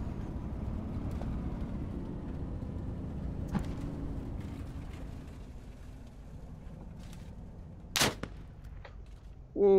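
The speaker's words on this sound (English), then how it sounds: "Ooh, we're taking rounds." Incoming gunfire in a military shooter game, scattered sharp shots over a steady vehicle engine rumble, with one louder crack near the end and a voice briefly heard.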